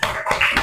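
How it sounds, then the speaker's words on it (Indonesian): A short burst of children clapping their hands together in a classroom, a few quick claps close by with no talking. "Oke, tepuk tangan dulu."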